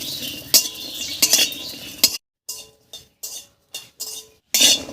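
Garlic cloves and broken green chillies fried in a kadai, with a spatula scraping and clinking in short repeated strokes against the metal, each stroke separated by brief pauses, close and fairly loud.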